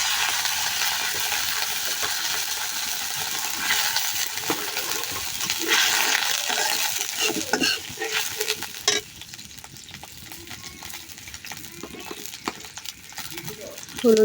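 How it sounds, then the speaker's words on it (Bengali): Water poured into a hot pan of fried onions and green chillies for a shing fish roe dish: a steady, broad hissing sizzle that eases and changes character midway, with faint stirring clinks. "এখন পানি দিয়ে দিব"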